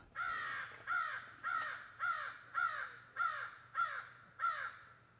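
A crow caws at a campground in Talladega National Forest, eight harsh, evenly spaced calls ringing out at moderate distance over a low steady hum, with no voices.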